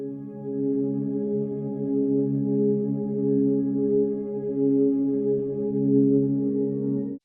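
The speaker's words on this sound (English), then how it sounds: "It's really just this nice, slow, almost evolving pad" A slow, evolving piano-like synth pad from Logic Alchemy, set to a distant sound with slight EQ, holds a soft, steady sustained chord that swells gently and never breaks for about seven seconds.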